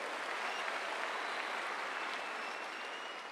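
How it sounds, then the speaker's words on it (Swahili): Church crowd applauding for the president, a dense, steady wash of clapping that holds evenly for a few seconds with no voices over it. "Tumpigie rais makofi"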